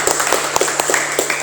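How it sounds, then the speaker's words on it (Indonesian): Classroom applause from a group of students, a brief burst of scattered clapping lasting about a second and a half at moderate loudness, with no voices over it. "Tepuk tangan semuanya."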